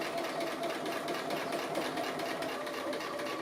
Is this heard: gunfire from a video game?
no